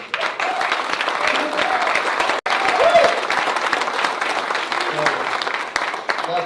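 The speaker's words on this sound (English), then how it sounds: "So everybody give Jason a round of applause" A council meeting audience breaks into steady, loud applause for a student's school project, sustained clapping filling the room with a brief dip partway through.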